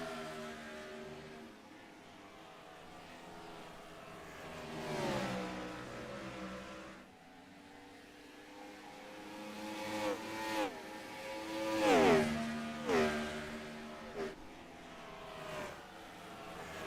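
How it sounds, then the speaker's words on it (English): Simulated ARCA Series race car engines in the iRacing video game at Iowa Speedway, a pack of cars revving and passing by with rising and falling engine pitch, growing louder toward the middle, with no talking. "Dylan Bates running all over the place, going high, going low, cutting across, back and forth."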